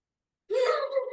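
A single deep, voiced breath drawn in during a standing breathing exercise, sudden and close after half a second of silence, then held as a steady, breathy tone to the end.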